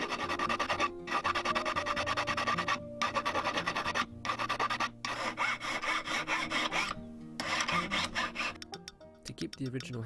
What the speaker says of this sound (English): Now I start sanding the inside, starting with 180 grit and slowly making my way up to 2000 for a smooth finish.